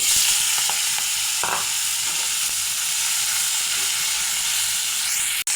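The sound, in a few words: fish frying in hot mustard oil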